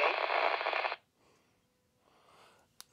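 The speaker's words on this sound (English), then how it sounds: "I hear you pretty good, a little bit of squelch" Baofeng UV-5G Plus GMRS handheld radio, with a loud burst of squelch noise at the start of the transmission and then faint, static-tinged received sound with a brief click near the end.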